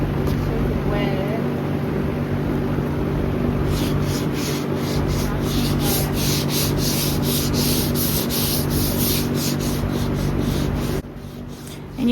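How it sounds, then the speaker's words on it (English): Wet sanding on a car body panel being prepped for vinyl wrap, a continuous, close, steady rasping scrub that runs for about eleven seconds before stopping. "And you want to kind of just wet sand it, but not too hard."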